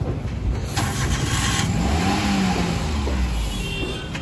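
A car engine starts up and revs as the car is moved aside at a wheel and tyre shop, loud and close, then settles into a steady running drone.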